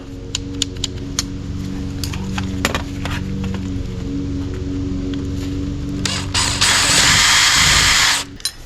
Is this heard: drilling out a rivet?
yes